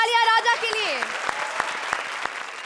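Studio audience at a Hindi TV comedy show clapping in a few sharp, sparse bursts just after a voice, recorded close and fairly quiet.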